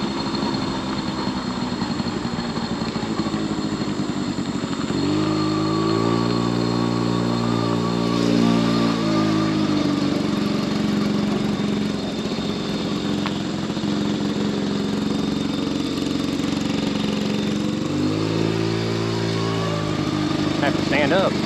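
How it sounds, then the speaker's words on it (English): A 1979 Honda Express two-stroke moped engine idles steadily and fairly quietly at close range, its tone rising in two brief revving stretches, with someone talking over it. "I know a lot of these two-strokes can get kind of obnoxiously loud. This one ain't bad."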